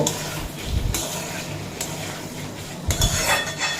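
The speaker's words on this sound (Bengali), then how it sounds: "এরপর এড করে দেব আগে থেকে ভেজে নেওয়া পনির মশলার সঙ্গে মিশিয়ে নেব" Fried paneer being stirred into sautéed vegetables and spices for a vegetarian khichuri, with a utensil scraping and clinking against the pan in a few short bursts over a faint background sizzle.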